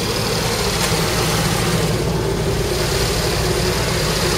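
Motorhome engine idling steadily up close, a continuous low rumble with mechanical vibration and no break in the sound.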